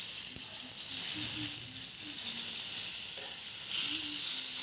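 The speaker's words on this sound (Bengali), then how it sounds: "তারপরে মাছগুলো একটু নরম নরম করে ভেজে নিচ্ছি" Rui fish pieces fry in mustard oil, giving a steady, bright, hissing sizzle that stays close and even throughout, with a few faint clinks.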